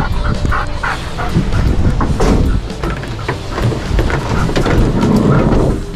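Several dogs being walked whine, whimper and yip excitedly in quick overlapping bursts, close and loud, with rustling and movement noise throughout.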